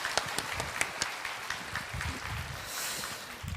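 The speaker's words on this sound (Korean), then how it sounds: "여러분 뜨거운 박수로 다시 한번 감사 뜻을 겠습니다" A Korean church congregation claps during a Sunday worship service. The crowd produces scattered sharp claps that blend into a moderate, fairly distant wash of applause.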